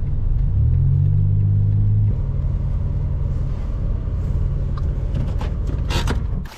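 Car driving on a road through Arches National Park, a loud, steady low engine and road rumble heard from inside the vehicle, with a brief rise in engine tone early on and some rustling near the end.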